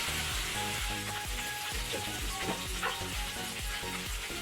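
Cut okra pieces frying in a little oil in a pan, giving a steady, dense sizzle and crackle that runs without a break from start to finish.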